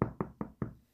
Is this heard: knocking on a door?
yes